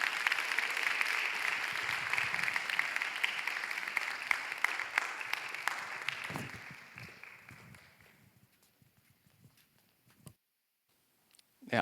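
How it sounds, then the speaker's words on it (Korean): A church congregation claps in congratulation for an engaged couple, with loud, sustained applause that fades out over several seconds into near silence. "축하의 박수로 맞이해 주시기 바랍니다"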